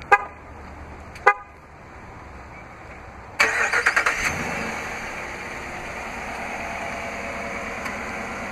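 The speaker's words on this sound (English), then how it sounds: "just double press the remote start button on the key fob" A 2014 Dodge Durango R/T AWD starts by remote start: two short chirps, then the engine fires at about three seconds with a quick burst of combustion pulses and settles into a steady idle.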